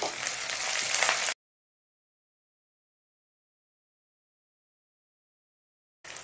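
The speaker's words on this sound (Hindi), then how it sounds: "तेल गरम होने के बाद मैं इसमें डाल रही हूँ तेज पत्ता और सूखा लाल मिर्च" Bay leaves and dried red chilies hit hot oil with a loud, hissing sizzle that lasts about a second before cutting to silence, then briefly returns at the end.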